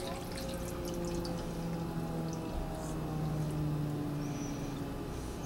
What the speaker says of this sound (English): now we're gonna pour brine over our kimchi